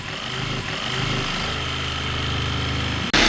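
Jigsaw cutting a roof vent hole in the metal roof of a van, heard as a loud, continuous buzzing rattle with a rhythmic low pulsing, cutting off abruptly near the end before a final burst.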